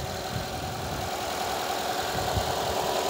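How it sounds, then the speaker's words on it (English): Subaru Boxer 4-cylinder engine in a 2012 Forester 2.5X idling after a cold start, a steady low rumble with faint ticking, close and continuous for the whole stretch. "you can see Subaru's Boxer 4-cylinder engine idling very happily off a cold start"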